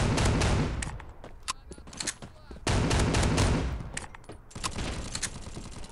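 Desert Eagle pistol shots in the shooter game Bullet Force, a rapid string of loud close gunshots in bursts with brief gaps and a fuller barrage in the middle.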